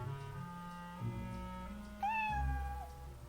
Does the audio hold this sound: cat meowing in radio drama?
yes